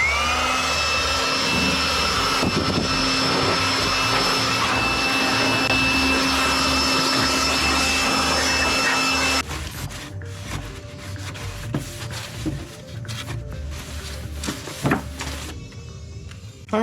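Power sanding on an SVT Cobra body panel being reshaped toward a Shelby look, a loud continuous whirring grind that stops abruptly partway, followed by quieter scuffs and knocks nearby.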